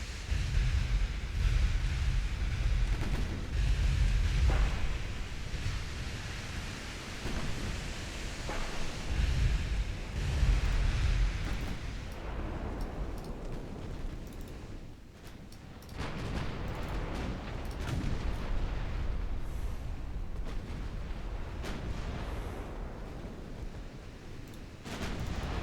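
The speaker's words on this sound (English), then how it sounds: "Nice shot by Royal Oak from the 6-inch guns." Naval 6-inch guns aboard HMS Royal Oak fire in a video game, giving heavy booming blasts and rumbling low-end surges over a constant roar of battle noise, with a few distinct thumps standing out early on.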